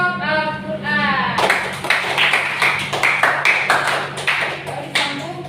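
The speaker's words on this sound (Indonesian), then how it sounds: "Tepuk tangan untuk kelompok Al-Quran." A classroom group claps for the Al-Quran team, with steady, rhythmic applause following a child's sung or spoken line.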